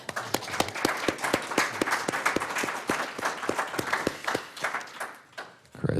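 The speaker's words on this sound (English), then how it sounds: "Give him a round of applause" An audience at a festival performance applauds, with sharp individual claps standing out over a dense wash of clapping that fades toward the end before a few last claps.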